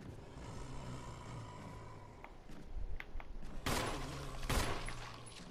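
Gunfire in the Resident Evil Remake, faint and distant at first, then several loud, sharp blasts in the second half over a low game rumble.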